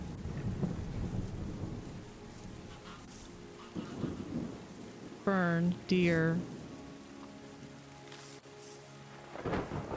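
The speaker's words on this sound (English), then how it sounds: "it started raining" Steady rain patters with low rumbles of thunder in the video game Terra Nil, while a person talks and a tonal chime or game sound rings briefly in the middle.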